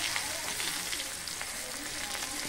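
Ginger garlic paste sizzles steadily in a hot pan of mutton kosha, a soft continuous frying hiss with faint crackles throughout.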